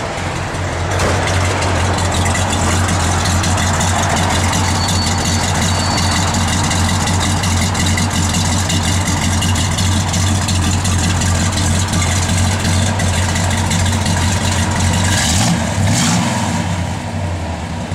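A 1969 Dodge Coronet R/T with a 440 V8 runs loud and close inside a building, a deep continuous rumble with a steady idle throb and a brief blip near the end.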